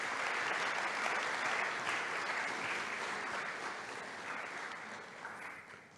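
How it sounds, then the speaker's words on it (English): Audience at a national youth awards ceremony in Barbados applauding the award nominees, with even, dense clapping that fills the hall and tapers off slightly toward the end, with no voices over it. "Please give them all a round of applause."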